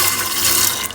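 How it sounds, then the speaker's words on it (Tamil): Water pours steadily in a continuous rushing stream, close and fairly loud, filling a cooking pot. "இப்போ நாங்கள் பானைக்கு கொஞ்சம் தண்ணியும் விட்டு"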